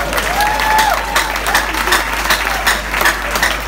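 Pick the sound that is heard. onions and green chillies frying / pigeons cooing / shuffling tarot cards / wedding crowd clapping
wedding crowd clapping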